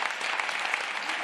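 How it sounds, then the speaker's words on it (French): Brief burst of audience applause at the UNIGE 2025 final of the Ma Thèse en 180 secondes contest, thick even clapping from a crowd with no voices over it. "On peut l'applaudir"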